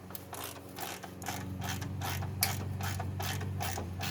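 Wrench work loosening the hood bolts on a Honda Del Sol, a steady mechanical clicking and ratcheting over a low hum, close and moderately loud, with no talking.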